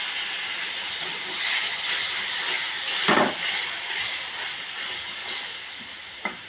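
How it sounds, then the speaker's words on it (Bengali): Spices soaked in hot water hit a hot pan and sizzle, a broad steady hiss with a sharp burst of crackle partway through and a small pop near the end. "এবার যে মশলাটাকে ভিজিয়ে রেখেছিলাম গরম জলে সেটা ছেড়ে দিলাম"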